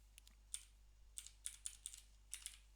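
Code is typed on a computer keyboard in quick, faint, irregular clusters of key clicks over a low electrical hum.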